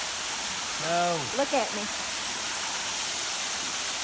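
Rushing water at the top of a waterfall on a hike, a steady loud broadband roar filling the whole clip, with a brief spoken exchange partway through.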